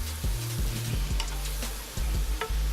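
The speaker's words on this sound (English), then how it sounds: "So we're gonna saute these down here, let them get nicely caramelized" Regular button mushrooms and onions sauté in a pan with a close, loud sizzle, broken by repeated scraping stirs and soft utensil knocks against the pan.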